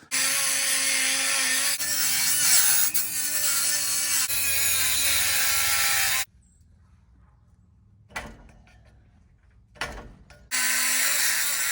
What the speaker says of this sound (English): Making some careful expansion cuts along the bottoms.